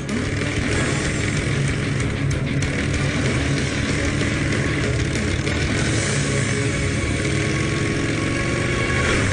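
A motorcycle engine runs loud and close throughout, a steady mid-pitched drone with slight revving as the bike is ridden off, in a Power Rangers Samurai action scene.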